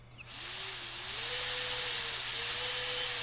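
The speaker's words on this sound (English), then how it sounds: "Ooh, that's a smooth little motor." A small SonicModell brushless electric motor on a 3-cell battery revs up to a high, smooth whine, rising and easing in pitch with throttle changes, close and steady for about three seconds.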